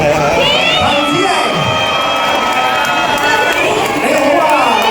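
A lively audience at a middle-aged singing contest event cheers and shouts to welcome a contestant, a dense continuous crowd roar with voices rising over it.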